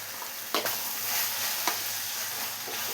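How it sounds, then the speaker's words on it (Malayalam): Chicken kondattam sizzles and fries in a pan while being stirred, with a steady hiss and a few sharp scrapes of the spoon, close and without talk. "ഇനി എല്ലാം കൂടെ ഒന്ന് മിക്സ് ചെയ്തെടുക്കണം"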